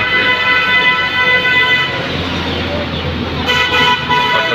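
Horns from rickshaws and motorcycles toot repeatedly on a roadside by a small market, loud and close over steady traffic rumble, with a voice speaking.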